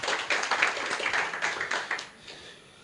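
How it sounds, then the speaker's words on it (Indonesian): A church congregation applauds during a sermon, a short burst of lively, somewhat rhythmic clapping close by that drops off abruptly after about two seconds. "Berikan tepuk tangan bagi Tuhan kita."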